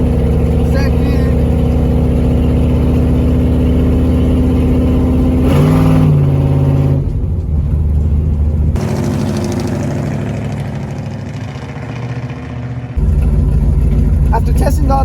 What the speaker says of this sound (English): test drive of the actual car so we can see if everything shifts smooth